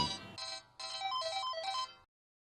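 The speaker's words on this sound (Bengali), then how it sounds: "আমার বাড়ি থেকে ফোন।" A phone rings with an incoming call from home, a bright electronic melodic ringtone playing in two clear bursts close by, with no voices over it.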